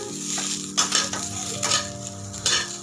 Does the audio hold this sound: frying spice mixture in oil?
yes